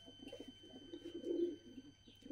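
Georgian fighting pigeons in Sartichala, Georgia coo softly in low, rolling murmurs, with a slightly louder coo in the middle, against faint steady background hum.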